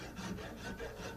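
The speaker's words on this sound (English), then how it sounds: "This is a number 48 cabinet maker's rasp" A number 48 cabinet maker's rasp shaping ebony hardwood, giving a soft, steady rubbing scrape that stays faint and close with no talking.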